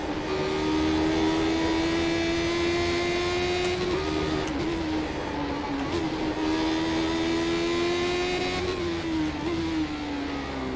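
A Lotus 79 racing car at Zandvoort in a racing video game holds a loud, steady, high engine whine with gentle pitch rises and dips as it shifts and revs, continuous throughout with no talk.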